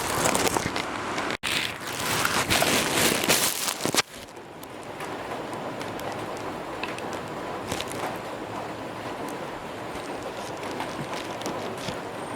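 Steady rain falls outside a cold, dark room in a tribal area of Bangladesh, a dense even hiss that is loud at first and then settles into a softer, continuous patter, with no talking.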